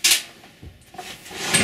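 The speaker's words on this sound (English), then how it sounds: "Okay, open up the door." An electric clothes dryer door is pulled open at close range, giving a brief latch click and a soft thunk, then a quieter rustle and faint handling noise.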